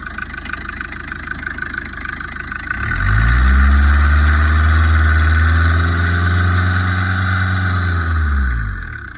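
A 2015 Tata Indica with 223,000 km on it starts up after a few seconds of faint background noise, then settles into a loud, close, steady idle with a low rumbling engine note.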